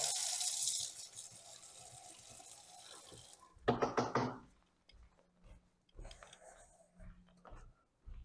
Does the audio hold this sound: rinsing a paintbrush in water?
yes